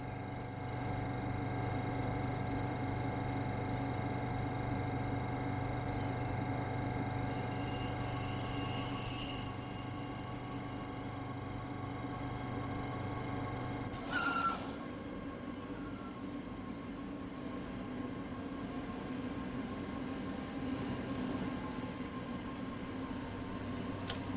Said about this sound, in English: You hear the motors kicking in.